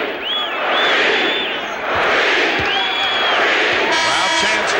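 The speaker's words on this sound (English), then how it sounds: "Crowd chants now Kareem's name." Large basketball arena crowd at the 1989 NBA Finals between the Lakers and Pistons chanting Kareem's name, a loud rhythmic rise and fall of massed voices with whistles and cheers, under a commentator's talk.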